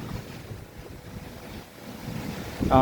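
Strong gusting wind from a storm in Charters Towers roars across the microphone in a continuous broadband rush, growing louder toward the end.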